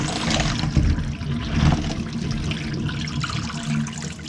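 Dirty water is dumped out of a Frankford Arsenal brass-cleaning tumbler, a continuous close splashing pour that surges and trickles with no talking over it.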